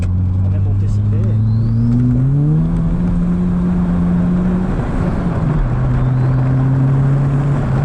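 A Renault 21 GT Turbo drops a gear and accelerates, its engine note rising steadily and droning loud and close from inside the car, with a voice briefly heard over it.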